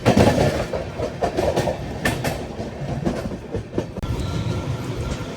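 The Jhelum Express rushes past close by, a loud burst of wheel clatter and rolling rumble with rhythmic clickety-clack from the passing carriages.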